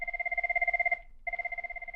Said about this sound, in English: or how soft my phone will ring